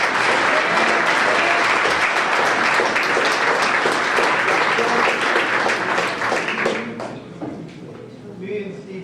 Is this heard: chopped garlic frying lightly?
no